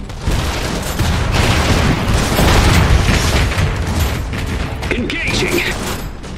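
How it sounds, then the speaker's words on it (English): Missiles launched in the Iron Harvest game, a dense continuous roar of booming launches and gunfire-like crackle, loud throughout, with battle voices mixed in. "Missiles away!"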